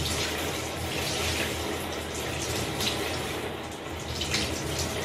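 Water running from a tap while bleach is rinsed out of hair at home, a steady close hiss of flowing and splashing water with faint shifting movement.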